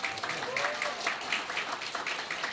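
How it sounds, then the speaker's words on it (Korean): Moderate audience applause at an indoor political briefing as a lawyer is introduced, steady overlapping claps at fairly low level with a faint voice briefly audible beneath. "여러분 뜨거운 박수 부탁드리겠습니다"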